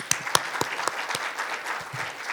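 Applause from an audience at the WJC 2025 opening ceremony: a few sharp, louder claps stand out at first, then settle into steady, moderately dense clapping across a hall, with no talk over it.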